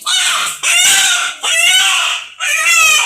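A rooster brought as an offering at the Gaali Durgamma temple in Hubli crows loudly and close by, about four strained, drawn-out calls in quick succession with short gaps, no talking.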